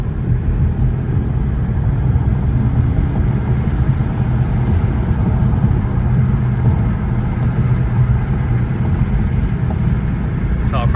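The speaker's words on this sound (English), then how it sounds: "I just want to kind of get the engine revs up" Engine of a 2014 VW Passat TDI running at raised revs during driving with an overheating fault, a steady low drone with road noise throughout and no clear climb in pitch.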